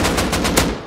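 Rapid automatic gunfire from a video game, a tight burst of close, loud shots in a quick, even rhythm with no talking.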